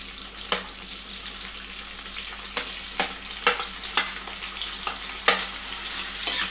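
Cut onions frying in two tablespoons of oil in a kadai for a country chicken pulusu, a soft steady sizzle under a handful of sharp spatula taps and scrapes.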